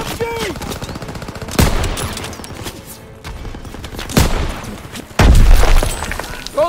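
Machine gun fire rattles in Call of Duty WW2 combat, a near-constant crackle with loud bursts and heavy booms, mixed with shouted voices.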